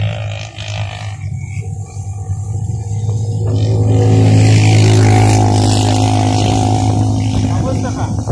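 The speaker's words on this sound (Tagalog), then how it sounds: "Ang daming mga motor dumadaan." Engines drone and swell as motorcycles pass along a busy, smoky road, a loud rising growl peaking midway and then holding, with a voice heard over the traffic.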